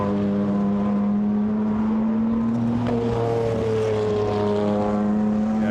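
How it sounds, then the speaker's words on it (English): Porsche 911 GT1 race car with a turbocharged flat-six engine, out on track at Goodwood during a 1990s GT1 demonstration, holding a loud steady drone whose pitch slowly rises as it passes. "The very distinctive flat sound of that Porsche turbo."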